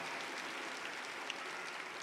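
Applause from an audience in a church, a steady even clatter of many hands clapping at once, held without a break across the whole stretch.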